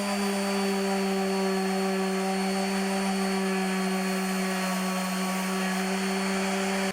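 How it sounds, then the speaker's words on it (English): A power sander works over the hull of an Old Town Pathfinder Royalex canoe with a steady, close, even whine and hum that holds for several seconds and then cuts off. "So we're going to go ahead and start sanding this out and maybe a couple other areas."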